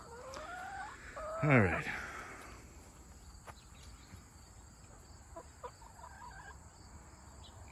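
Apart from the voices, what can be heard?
chickens clucking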